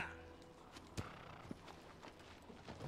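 A horse's hooves clip-clop at a steady walking pace in Shadow of the Colossus, several soft distinct hoofbeats, faint and close with no talk.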